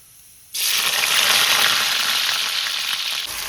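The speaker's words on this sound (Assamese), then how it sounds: "এফালে ভাজি আছো দেই আলুখিনি দি দিলোঁ পিঁয়াজ দিয়াৰ পিছত" Sliced potatoes added after onions fry in a pan. A brief quiet gives way to a sudden, loud, continuous sizzle that holds steady to the end, with no talking.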